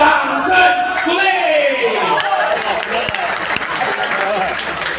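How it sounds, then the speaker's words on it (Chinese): A crowd of guests at a party or game event breaks into applause with whoops and shouts, loud and close, fading into chatter as the clapping thins out. "掌声鼓励。"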